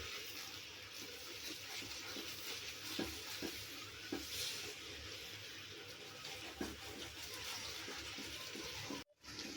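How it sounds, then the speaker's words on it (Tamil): Milk is stirred into a sweet mixture in a pan, producing a continuous low hiss and bubbling with soft scraping strokes and light clinks of the spoon, close and steady for nearly ten seconds with no voices. "பால் சேர்த்துட்டு நல்லா இதை கலந்து விட்டுடலாம்"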